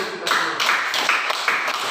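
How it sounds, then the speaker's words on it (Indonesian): A class of children claps together in a dense, slightly rhythmic patter, near and even, with no talking over it. "Tepuk tangan dulu."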